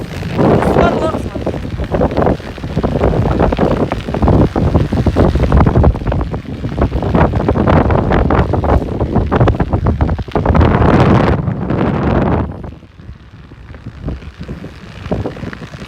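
Strong gusty wind roars outdoors over frozen ground the day after a blizzard, buffeting the microphone in loud, uneven surges before dropping off near the end, while a person talks intermittently over it.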